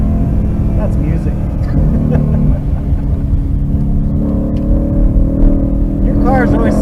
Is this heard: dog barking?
no